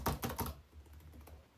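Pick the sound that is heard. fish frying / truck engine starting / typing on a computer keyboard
typing on a computer keyboard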